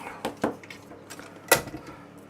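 Cream cheese worked in a bowl for a pumpkin cheesecake, a few distinct clinks and scrapes of a utensil against the bowl at irregular intervals, close and fairly loud.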